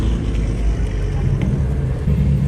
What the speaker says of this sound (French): un petit défilé de voitures